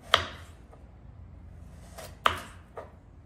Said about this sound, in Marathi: आता आपण गाजराला पण कट करून घेऊया।